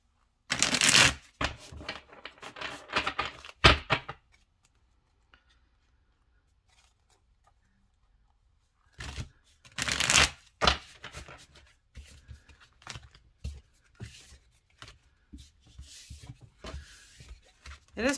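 A thick, heavy-cardstock tarot deck with a matte finish is shuffled in two bursts of crisp riffling and flapping separated by a pause, close and clear.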